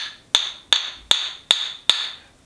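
Wooden rhythm sticks struck together like a hammer on a nail, five crisp evenly spaced clacks each ringing briefly, close and clear with no voices.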